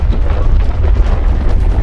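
Explosion in a mine in the game Fallout 76, a loud, deep rumbling blast that roils continuously for nearly two seconds with no talk.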